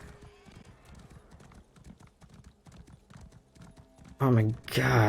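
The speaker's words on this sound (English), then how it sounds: "Oh my god, horse speed is just so slow." Horse hooves clip-clop in steady rhythm as a mount is ridden in the Elder Scrolls Online video game, with a player's loud voice cutting in over the last second.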